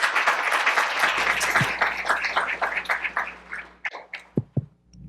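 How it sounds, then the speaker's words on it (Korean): A conference audience at an AI tech event claps to welcome a speaker to the stage, with full, close applause that thins over a few seconds into separate, isolated last claps. "큰 박수로 소장님을 무대로 모시도록 하겠습니다."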